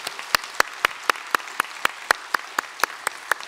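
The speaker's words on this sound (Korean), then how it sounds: "우리 박수로 환영하겠습니다" A church congregation welcoming new members with clapping, crisp claps falling in an even, steady rhythm, about four per second, moderately close and without voices.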